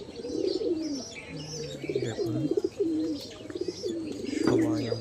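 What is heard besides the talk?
pigeons cooing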